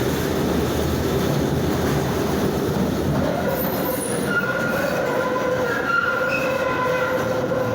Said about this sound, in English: Goes 11 trolley back to Delaware.